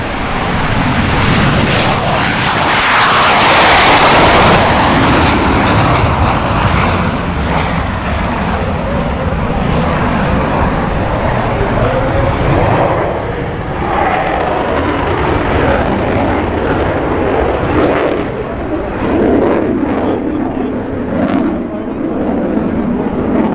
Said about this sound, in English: I'll let the jet noise go by